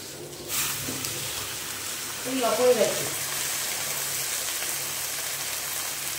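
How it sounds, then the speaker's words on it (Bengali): Water is poured into sautéed vegetables in a pan while making vegetarian biryani. A soft, steady sizzling hiss starts early and keeps going, with a brief clattering splash in the middle, all fairly quiet. "এই যে আমার সবজি কষা হয়ে গেছে, এবার এতে দিয়ে দেবো পরিমাণ মতো জল"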